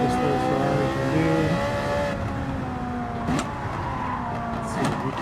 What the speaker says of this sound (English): Let's see what this little Ferrari can do.